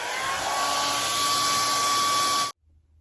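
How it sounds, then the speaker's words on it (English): Hairdryer blowing on freshly painted soft blue paint on a DIY paddle sign, a steady loud whooshing whine with a thin tonal hum, running continuously before shutting off abruptly near the end. "Let's dry it with a hairdryer."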